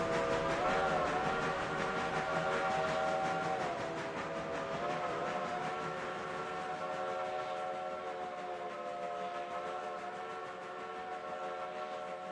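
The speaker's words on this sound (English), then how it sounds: "I'm seeing how far that whistle will go." A steam locomotive whistle sounds in the railroad simulation game Railroader, one long sustained multi-tone blast that holds steady for several seconds, fairly faint and alone.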